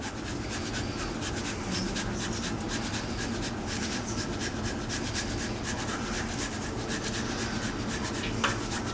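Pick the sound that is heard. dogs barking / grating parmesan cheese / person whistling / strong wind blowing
grating parmesan cheese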